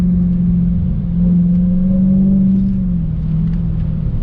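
A Dodge Challenger Hellcat muscle car accelerating hard on throttle from a roll, its engine giving a loud, steady low roar with a rising tone that holds close and continuous throughout.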